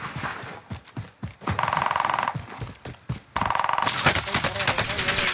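Gunfire in Call of Duty MW2 comes in rapid automatic bursts with sharp cracks, broken by brief pauses and punctuated by heavier blasts near the middle and end.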